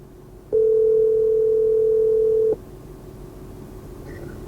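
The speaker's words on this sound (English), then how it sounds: "we can use Siri to easily make phone calls" An outgoing phone call placed through Apple CarPlay in a Lexus GX gives one steady, loud ringback tone lasting about two seconds, then a quiet cabin hum.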